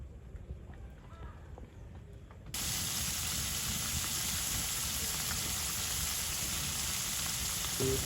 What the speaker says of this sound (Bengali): কড়াইতে দিয়ে দিছি তেল মাছ ভাজির জন্য